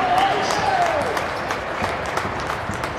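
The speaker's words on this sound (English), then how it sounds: "So Compton getting a round of applause from the Cougar faithful." Fans at a men's college basketball game against Spring Arbor give a player moderate applause in the arena, with steady clapping and crowd murmur under a commentator's talk.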